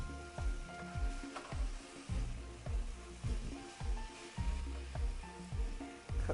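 Chili powder, black pepper, salt and cinnamon stirred into a hot pan, with steady sizzling and repeated scraping strokes of the spoon in a loose rhythm, close and alone.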